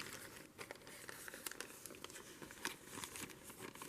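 Paper for an ATC card being folded and creased by hand, giving soft continuous crinkling with scattered sharper crackles, close and fairly quiet, with no talking.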